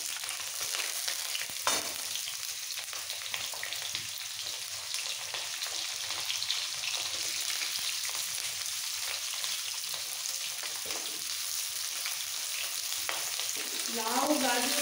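Potatoes and then assorted vegetables for a Bengali labra curry fry and get stirred in hot oil, giving a steady, close crackling sizzle with soft scraping strokes throughout and no talking.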